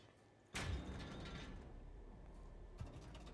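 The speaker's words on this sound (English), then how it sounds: "now pull this lever to open down door" A lever is pulled to open a door in Code Vein: a sudden heavy mechanical clunk gives way to a steady grinding, creaking rumble of gears and pulleys, with a second thump near the end.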